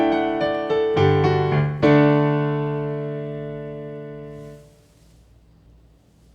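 Piano closes a hymn phrase with a few quick chords, then a bass note lands on the downbeat under a final chord that rings out and slowly decays to near silence, close and clear with no talking.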